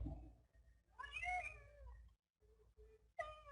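A domestic cat meows several times close by, with a long drawn-out meow followed by shorter, softer mews and a final rising call, set against quiet low room noise.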